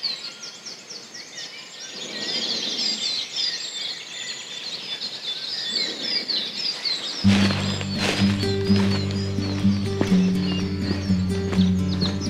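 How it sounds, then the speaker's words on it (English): Dense outdoor birdsong with many overlapping chirps and whistles; partway through, a steady low hum with rhythmic knocking joins in beneath the birds. "The sound of the dawn chorus at this time of year is just so beautiful."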